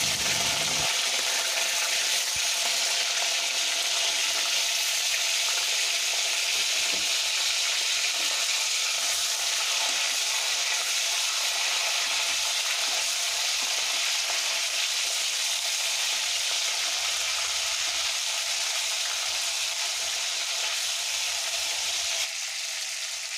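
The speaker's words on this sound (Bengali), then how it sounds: "এবার আমি কাতলা মাছগুলোকে হালকা করে ভেজে নেব।" Pieces of katla fish fry in a hot pan, giving a loud, continuous sizzle and crackle of oil that fills the whole stretch, with occasional faint scraping as they are turned, and no voices.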